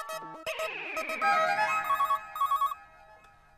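A telephone rings repeatedly while a call is placed to a school, an electronic ringtone with bright warbling tones in several short bursts, heard alone and fairly clear.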